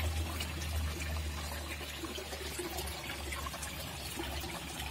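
Water in a shallow fish pond churned nonstop by a 6000 litre pump, a steady close splashing and trickling over a constant low mechanical hum.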